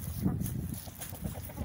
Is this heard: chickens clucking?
yes